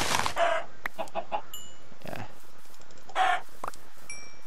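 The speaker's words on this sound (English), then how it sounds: "oh, I found a chicken." A chicken in Minecraft clucks in short, repeated bursts over bright game sound effects, with a voice speaking briefly.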